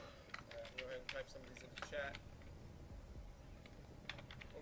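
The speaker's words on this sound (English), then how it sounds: "While I'm typing this, why don't you guys think of some more questions?" Keys clatter on a computer keyboard in quick bursts of typing separated by short pauses, faint and close, while someone talks.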